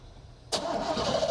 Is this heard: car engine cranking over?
yes